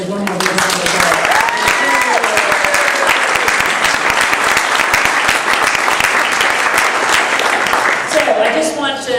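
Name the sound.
audience applause for Beacon Award winners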